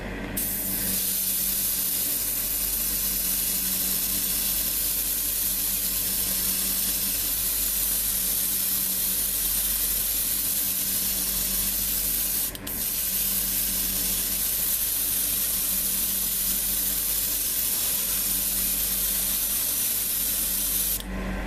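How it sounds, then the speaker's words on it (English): An airbrush sprays unthinned paint onto a 1:72 Italeri Su-34 Fullback plastic model kit, a loud steady hiss of air held almost unbroken for about twenty seconds, with one momentary dip midway. "So this stuff just loads directly into the airbrush without thinning."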